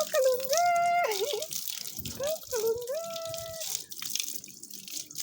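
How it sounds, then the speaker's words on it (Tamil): Tap water runs over a small child's feet on a home rooftop terrace, a steady close splashing hiss lasting throughout while a high, lilting voice calls over it. "இப்போ என்ன பண்ண போகிறோம், பாப்பாவோட கால் கழுவ போகிறோம்"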